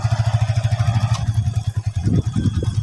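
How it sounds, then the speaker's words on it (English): A manual motorcycle pulls away in first gear, its engine chugging in a low, steady throb close by that rises slightly as it moves off. "you can release the clutch slowly. It will move by itself. Then you can push the throttle gently."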